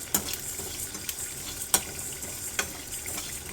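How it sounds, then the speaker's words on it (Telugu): Fish pieces cooking in a pan give a steady close sizzle, punctuated by several sharp crackles and pops at irregular intervals, with no voices. "చేపల ముక్కలు అయితే ఉడుకుతున్నాయి."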